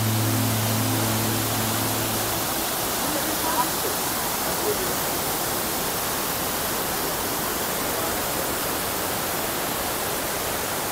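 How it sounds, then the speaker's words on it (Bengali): Sana Ghagra waterfall in Keonjhar, Odisha, roars as a loud, unbroken rush of falling water, with a brief tone at the very start. "আর এই ঝর্ণাটা দেখে, ফলসটা দেখে মুগ্ধ হয়ে গেলাম"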